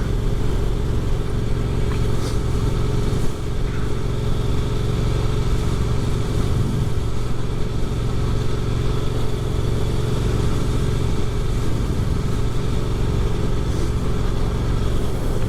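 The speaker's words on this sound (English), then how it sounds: "this is my motorcycle, the 2022 Triumph Street Twin" A 2022 Triumph Street Twin motorcycle engine drones steadily throughout, a continuous rumbling roar with wind noise as it rides along.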